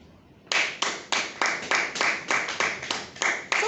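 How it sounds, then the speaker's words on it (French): A small group claps together at a talk on self-confidence, about a dozen distinct, evenly spaced claps in a firm rhythm, close and loud, with no one speaking. "ça mérite un plus grand applaudissement"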